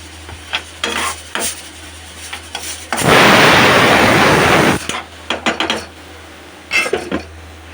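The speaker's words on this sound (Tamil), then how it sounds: "இப்போ மூடி வச்சுக்கலாம்." Metal clinks and taps of a lid set on a pot of mutton head curry with tomatoes, scattered knocks around a loud, steady stretch of hissing, bubbling cooking noise.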